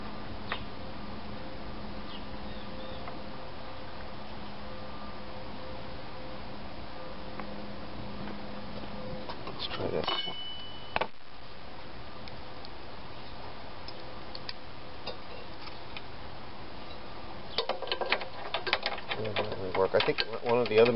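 A 3/8 socket ratchet tightens a bolt on an old Toro lawn mower during a restoration, giving faint, soft clicking ticks over a low steady background hum, with a denser run of clicks near the end.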